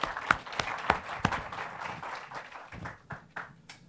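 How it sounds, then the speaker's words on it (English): An audience at a talk applauding, a sparse patter of claps from a modest crowd, fairly near and tapering off toward the end. "They deserve a round of applause"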